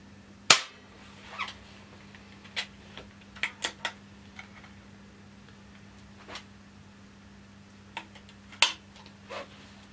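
Air gun shot fired through an Air Chrony chronograph: one sharp, loud crack at the start, followed by scattered fainter clicks and ticks and a second distinct snap near the end, over a low steady hum.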